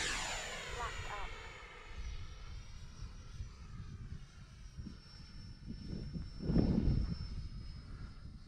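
Engine whine of an Arrows Marlin jet in a flight simulator game, a faint steady high tone with a slowly falling pitch over a soft, rumbling drone, with some low thumps near the end.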